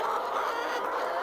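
Laying hens fill a poultry house holding 5,500 birds in Uganda, their steady clucking a dense, continuous murmur from a large flock with no pauses and no speech over it.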